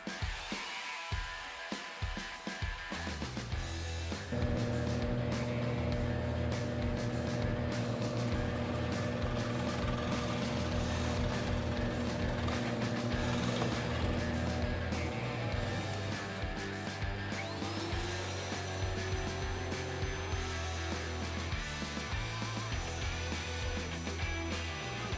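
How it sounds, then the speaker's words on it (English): Belt sander smoothing the corners of wooden swing parts, a steady loud motor whine with grinding contact running continuously after a brief startup clatter. "Now I'm just going to smooth out the corners with the belt sander."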